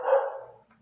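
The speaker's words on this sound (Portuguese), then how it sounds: "A gente tem os cachorros que latem aqui, são 3" A single short dog bark, close and moderately loud, dying away quickly into quiet.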